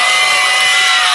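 A large outdoor air show crowd cheers and whoops for a BMX bike stunt show in Hughesville, a loud, dense, continuous roar of many voices filling the whole moment.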